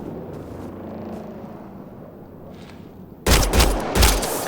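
Combat in Mass Effect Andromeda: a quiet, rumbling lull gives way to a sudden loud volley of gunfire, several heavy shots crowding into the final second.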